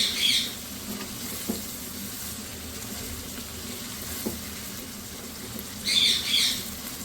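Peas fry in oil and masala for matar pulao, giving a steady, close, moderate sizzle with brief louder spitting bursts at the start and near the end, and no talking.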